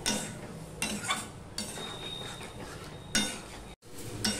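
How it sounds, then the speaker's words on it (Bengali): Spice paste with turmeric and a splash of water, sautéed with potatoes over medium-low heat for a potol-prawn curry, with a spoon scraping and clinking against the pan in repeated strokes amid a soft, steady sizzle. "এবার ভালো করে মশলাটাকে কষিয়ে নেব মিডিয়াম টু লো হিটে।"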